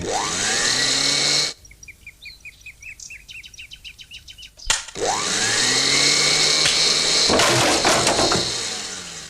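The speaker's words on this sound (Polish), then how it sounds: "wzięli mikser i zdjęli obudowę" A cartoon electric mixer with its casing removed whirs loudly and steadily, breaks into a rapid run of chirping, ticking pulses, then after a sharp knock roars back up to a sustained high-pitched spinning drone.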